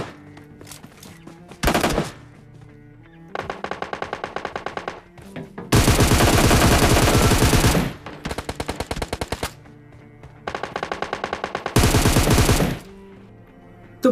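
Automatic rifle fire in the battle-royale game PUBG Mobile at Georgopole: several loud, rapid bursts, a short one near the start and longer sustained sprays through the middle and end, with brief quiet gaps between.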